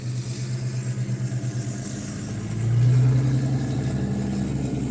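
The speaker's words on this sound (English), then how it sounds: "there's a truck driving by" A heavy truck passes close by, its low engine drone swelling to a loud peak midway and then holding steady as a throaty rumble.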